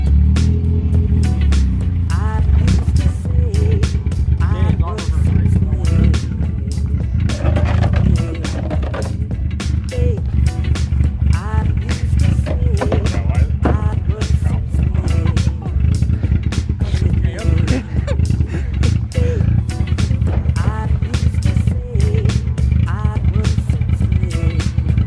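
A BMW engine with its muffler cut off roars loud and close, rumbling and revving continuously for the whole stretch with a harsh, throaty edge, while voices occasionally speak under the noise.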